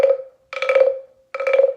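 An 8-inch wooden frog guiro, large size, rasped in three bold croaking strokes with a hollow, pitched buzz, each separated by a short pause, loud and close with no voices.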